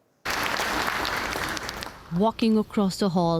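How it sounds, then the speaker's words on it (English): Applause and cheering from family and friends fill a graduation ceremony for new doctors, dentists and pharmacists, a dense steady roar that fades after about two seconds as a voice begins talking over the tail of the clapping. "Family and friends clapping and cheering."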